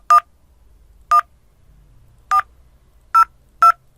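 DTMF dialing tones in a Cisco Packet Tracer VoIP simulation, five short, loud keypad beeps at uneven intervals, the last two closer together, over near silence.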